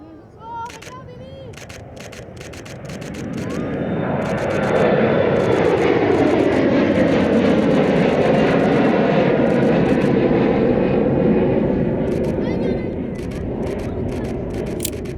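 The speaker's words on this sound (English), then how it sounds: "We now have a United Express to New York. Yeah, EWR New York. It's an Embraer" A United Express Embraer E175LR jet airliner bound for Newark passes close by, its engine roar swelling to a loud, steady rush and then easing slightly, with camera shutter clicks over it.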